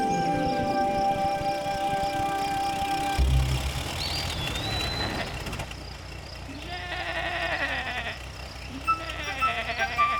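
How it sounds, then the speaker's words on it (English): A mother sheep in an animated children's vehicle story gives wavering bleats, rising and falling near the end over light background sounds and music. "Mother Sheep, you have such nice wool for cleaning."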